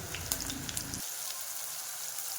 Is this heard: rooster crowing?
no